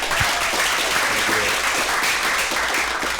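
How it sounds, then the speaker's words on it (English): Audience applause, a dense burst of steady clapping filling the room from start to finish, loud and close, with no talk over it. "let's give all these guys a round of applause"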